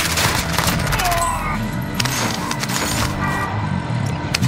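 Rapid gunfire rattles through a Call of Duty Warzone match, with clusters of sharp shots and bursts spread across the moment over dense game noise and faint voices.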